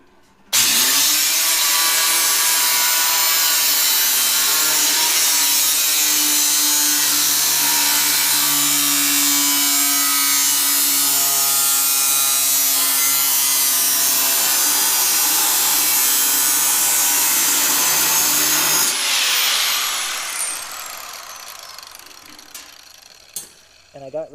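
Power tool cutting Mustang sheet metal during a restoration, a loud steady grinding whine held for about nineteen seconds before winding down, followed by a few faint clanks.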